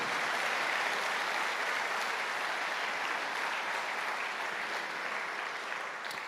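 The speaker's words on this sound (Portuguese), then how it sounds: "aplauda bem forte a palavra do Eterno" A church congregation claps together in sustained, even applause, heard at moderate distance, with a thick crowd texture that eases slightly toward the end.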